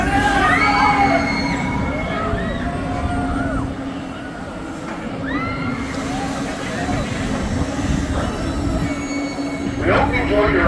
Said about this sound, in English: We hope you enjoyed your ride on Sledgehammer.